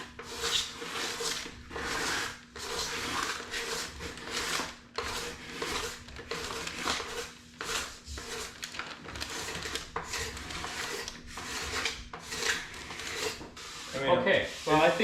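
Repeated rasping strokes of a burr-edged scraper over wood inside a boat's head, steady rhythmic passes near the mic with a faint hum beneath and brief talk at the end.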